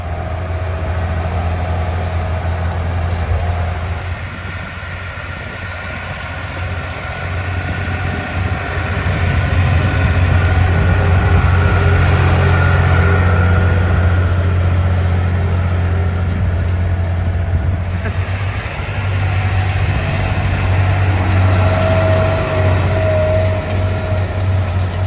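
A Schlüter Euro Trac tractor's 6.9-litre six-cylinder MAN diesel, mounted on its side beneath the cab, runs at a steady idle with a deep, continuous low rumble and vibration, loud and close throughout.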